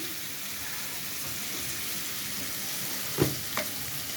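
Turmeric and chili powder frying in a pan, a steady close sizzle throughout with a couple of brief stirring scrapes toward the end.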